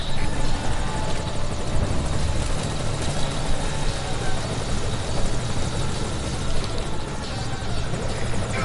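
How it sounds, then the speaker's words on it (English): A Soviet helicopter in a video game, its rotor thudding steadily with a whining engine drone, loud and sustained throughout, with faint talk underneath. "The chopper. Do something."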